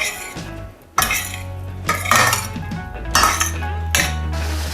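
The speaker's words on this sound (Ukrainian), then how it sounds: "В кастрюльку додав невелику кількість вершкового масла, закладаю макарони і гарно перемішую." Pasta stirred with a little butter in a pot: a run of metallic clinks and scraping knocks from a utensil against the pot, coming in several bursts with a light sizzle underneath.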